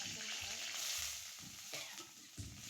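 Green chillies and onion go into hot oil with curry leaves for a radish dish. A faint, steady sizzle carries soft stirring scrapes at a low level, with no talk over it.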